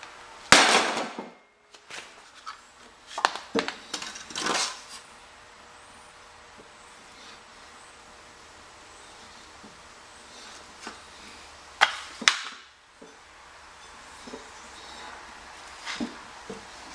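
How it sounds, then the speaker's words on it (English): Several sharp, loud knocks of a hammer striking a wooden block against a bent John Deere LA135 42-inch mower deck, a pair early on, another burst a few seconds later, then scattered taps over a quiet background. "hit that with a hammer"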